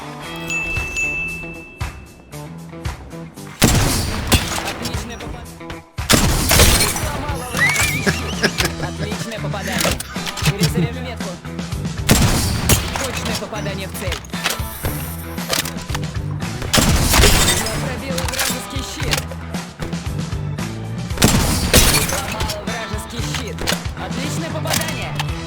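Sniper rifle shots in Apex Legends, played as Bangalore, ring out as a few loud, sharp cracks spaced several seconds apart over busy, continuous game sounds.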